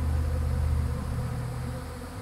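A honey bee swarm moves into a modified Warre bait hive, a dense steady buzzing drone of many bees close by, continuous and slightly fading toward the end.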